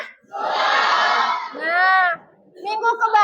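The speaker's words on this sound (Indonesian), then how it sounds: "Oke, tepuk tangan untuk kita semua." A classroom of students cheers together in loud, sustained unison shouts, two long bursts and then a shorter ragged one, with no distinct clapping standing out.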